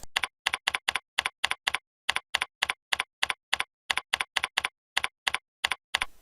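Taps on a phone app's on-screen keyboard, a quick even run of crisp, close clicks in short groups with brief pauses between them, alone and with no voices.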